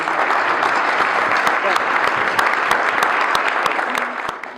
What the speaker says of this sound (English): I'd ask you to join me in a round of applause for all of you